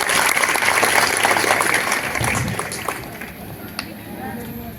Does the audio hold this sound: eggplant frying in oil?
no